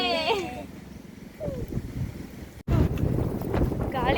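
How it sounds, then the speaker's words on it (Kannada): Strong outdoor wind buffets the microphone with a rough, loud rumble while people talk over it, broken by a brief dropout midway before the gusting returns. "ಗಾಳಿ ಹಂಗೆ ಹೊಂಟದಂದ್ರೆ ನಾ ಎಲ್ಲಿ ಬೀಳ್ತೀನಿ ಅಂದಪ್ಲೆ ಆಗ್ಲತ್ತದ"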